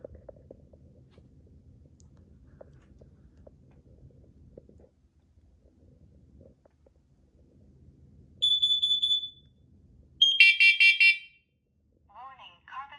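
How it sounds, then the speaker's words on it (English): Carbon monoxide alarms on a demo board sound off: two loud electronic beep bursts, the second a rapid cluster of chirps, then a fainter descending electronic tone, after a stretch of quiet low background. "All these will just alarm in CO."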